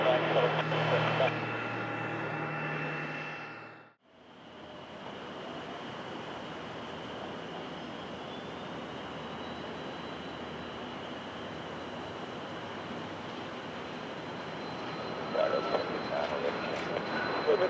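A Delta airliner takes off from a runway at Tampa airport, its engines a loud, steady broadband roar that drops away briefly and then rises again to fill the scene; radio voices are heard at the start.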